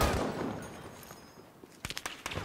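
Gunfire in the World War II shooter Battlefield V: a loud burst opens, decays into a distant rumble, then several sharp rapid shots crack closer together near the end.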